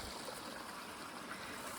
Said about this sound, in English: This stream is my last water source.